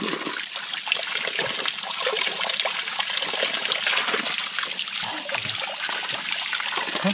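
Cold spring water trickles and splashes steadily at close range, a bright continuous babble that carries on without any talking.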